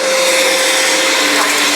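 A pressure washer sprays a barn-find 1980s Ford Mustang GT 5.0 in a final rinse, giving a loud, steady, close hiss with a constant motor whine and no talk.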